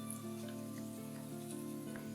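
Cornflakes crackle in hot oil during a sweet mixture recipe, a dense patter of sizzling that sounds almost like rain and holds steady and nearby with no talking.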